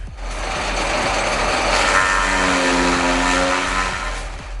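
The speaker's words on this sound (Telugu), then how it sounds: "రైతుకు శ్రమ ఖర్చు తగ్గిస్తున్న హైస్పీడ్ చాప్ కట్టర్లు గంటకు వెయ్యి నుండి పదిహేను వందల కిలోల పచ్చిగడ్డి చాపింగ్తో" A high-speed heavy-duty chaff cutter chops green grass with a loud, steady mechanical whir and rapid rhythmic chopping pulses. Its hum rises in pitch midway, and no one speaks.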